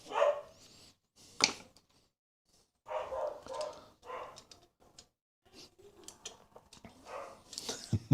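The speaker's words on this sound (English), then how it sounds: "Dogs are shouting" Dogs bark outside in scattered bursts, a sharp yap early on, then clusters of distant barks and yips with short quiet gaps between them.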